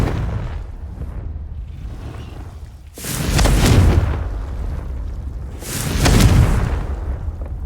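In Hogwarts Legacy, a Confringo fire spell explodes twice, each a loud, rushing boom lasting about a second, separated by a few seconds of low rumbling quiet.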